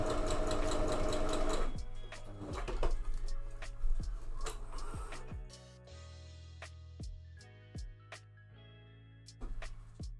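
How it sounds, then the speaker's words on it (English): A sewing machine stitches corset mockup pieces, starting with a fast steady whir and then breaking into short bursts of stitching separated by sharp clicks and pauses, close and fairly quiet. "let's just sew these in place so that I don't have to worry about them getting loose"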